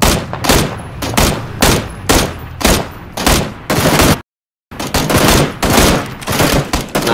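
Gunfire in PUBG, loud repeated bursts of shots in a steady pulsing rhythm, broken by a brief silent gap before firing resumes.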